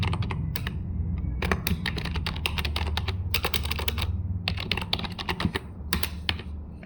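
Rapid, uneven keystrokes on a computer keyboard as data is typed into a decision-support program, close and clear, with short bursts and pauses over a low steady hum and no talking.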